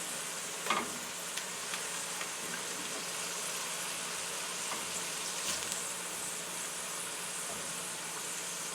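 Shrimp frying in a pan for fried rice, giving a steady, quiet sizzle with an occasional faint clink or stir, heard close up and continuous without talk.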